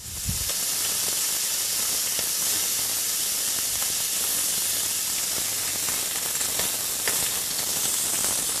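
Spiced chicken drumettes searing in a frying pan on the stovetop, a continuous loud hiss and crackle of hot oil with scattered sharp pops throughout, no talking.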